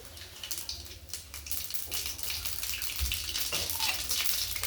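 Cumin and mustard seeds drop into hot oil and sizzle in a crackly, uneven hiss with scattered pops, moderately quiet and close.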